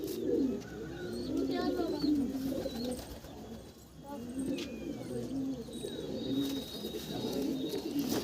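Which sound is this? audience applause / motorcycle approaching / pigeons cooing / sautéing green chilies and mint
pigeons cooing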